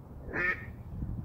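A single short duck quack sounds in a video game, clear and mid-distance over a quiet low background hum.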